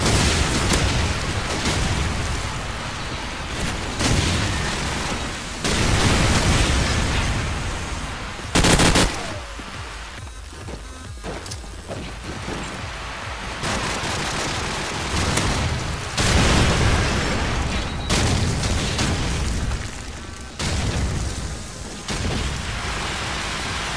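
Repeated grenade blasts and gunfire in a Call of Duty 4 match, loud broadband bursts arriving in clusters every few seconds with a sharp crack near the middle, no talk.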